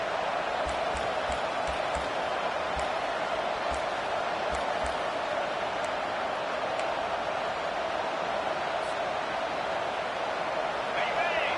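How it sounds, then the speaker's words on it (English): A home crowd roaring steadily at a college football game as the defense faces third down, a dense sustained wall of cheering with scattered thumps and claps throughout. "Here comes this home crowd as the defense tries to get off the field on third down"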